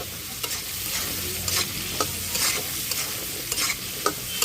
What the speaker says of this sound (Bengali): আলুটা দিয়ে আমি একটু নেড়ে নেব।